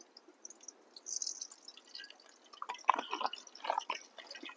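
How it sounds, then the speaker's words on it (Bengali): Cooking oil goes into a pan while jackfruit and chana dal curry is being made, giving a faint, close pouring trickle with soft drips and light sizzling spatters and no voices. "হয়ে গেছে, আমি তেল দিয়ে দিলাম।"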